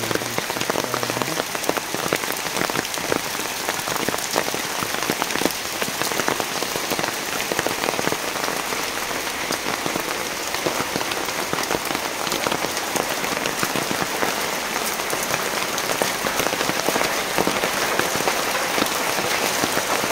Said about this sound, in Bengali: ভারী বৃষ্টিতে ভিজে গেছে, কেদা হয়ে গেছে